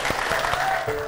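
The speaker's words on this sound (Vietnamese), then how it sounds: "Trời ơi, vỗ tay liền chứ ạ." An audience at a Vietnamese matchmaking stage show claps together in a dense, steady round of applause, close and continuous for the moment shown.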